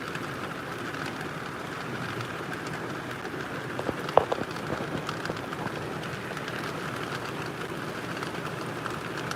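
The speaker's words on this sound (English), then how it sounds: "When it rained like this for this long and this hard, it always floods where I live at." Heavy, prolonged rain falls steadily as a dense, even wash of hiss, with a few brief louder drip or tap accents near the middle and no voices.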